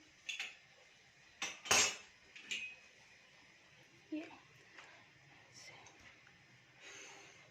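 A knife lightly scoring cuts into a fish at home: a few soft, close taps and scrapes of the blade, spaced unevenly and fairly quiet, with a voice talking softly in between.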